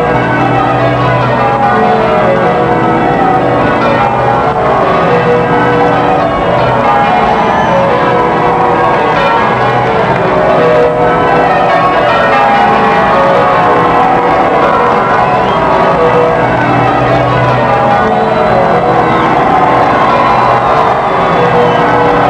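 Church bells peal continuously after the 1981 royal wedding, ringing out over a large, cheering crowd in a dense, steady wash of sound.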